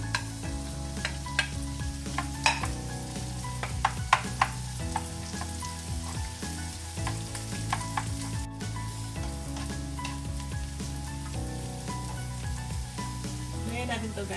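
Garlic and onion sizzle steadily in hot oil alongside leftover sisig, with scraping stir strokes and a few clinks of the utensil throughout; close and continuous, no talk.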